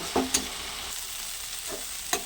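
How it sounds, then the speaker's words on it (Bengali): Yardlong beans, potato and eggplant sizzle in a pan, with a steady frying hiss under a few brief scraping stir strokes across a short stretch with no talking. "দেখুন সবজিটা সুন্দর ভাজা হয়ে গেছে বরবটি আলু আর একটা বেগুন ছিল"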